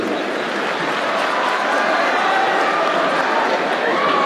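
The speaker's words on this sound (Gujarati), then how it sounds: "અહીંયા જેટલા બહેનો બેઠા છે એમણે ખાસ તાળીઓ કાઢવી પડશે ભાઈઓ માટે" Women seated in the audience at a motivational speech event clap steadily as a dense wash of applause that stays fairly loud and even throughout.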